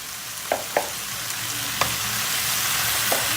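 Tomato paste fries in a pot, giving a steady close sizzle as potatoes are added. A few soft clunks and stirring knocks sound over the constant frying hiss, with no talking.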